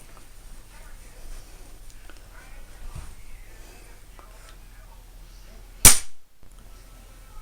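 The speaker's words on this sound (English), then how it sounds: "And fire off the shot." A single sharp crack from a Weihrauch HW99s .22 spring air rifle firing, followed by a brief thud and a moment of near silence, after quiet handling clicks.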